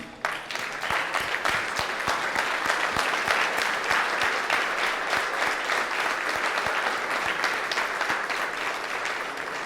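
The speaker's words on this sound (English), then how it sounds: "Can we have a standing round of applause or a standing ovation for" An audience gives Joanne a standing ovation, a crowd clapping loudly and continuously as one sustained burst that gradually thins toward the end.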